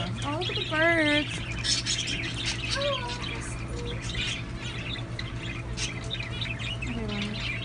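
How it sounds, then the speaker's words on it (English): Caged birds in a pet store squawk and chirp in sharp, rising calls over a steady background hum, with quiet voices talking under them. "Oh, look at the birds."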